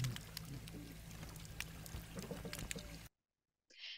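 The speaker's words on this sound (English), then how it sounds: "you'll hear the boop boop calls of Gulf toadfish, some invertebrate clicks" Underwater at a living shoreline: low repeated boop calls of Gulf toadfish, scattered sharp invertebrate clicks and a wash of water movement, then a sudden cutoff to silence and a short final burst.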